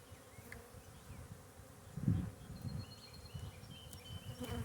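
Honeybees buzz steadily and close by during a spring hive inspection with the brood nest opened, a continuous droning hum that swells briefly partway through, with no talking.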